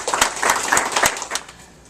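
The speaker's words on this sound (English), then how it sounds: "Give them a big round of applause." A short burst of applause greets two presenters called up at a real-estate talk, a handful of crisp, close claps in quick rhythm that thin out and fade within two seconds.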